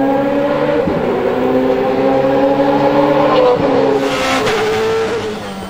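A BMW short-stroke four-valve V8 race car engine revs hard and close, its steady high-pitched howl climbing quickly and holding loud before easing slightly near the end.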